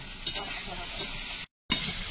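A steady, gentle sizzle of frying in a pan while preparing magur fish curry with giant prawns, with a few faint clinks and a brief dropout near the end.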